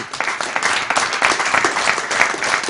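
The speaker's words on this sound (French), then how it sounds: "Vous pouvez vous applaudir" A studio audience on a French sports television programme applauds, a continuous burst of many hands clapping, moderately loud and steady from start to finish.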